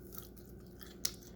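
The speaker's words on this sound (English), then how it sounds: "it's the taste of the waffles" Someone chews buttered waffles close to the mic, soft moist mouth sounds with a single brief crunchy bite, quiet and alone.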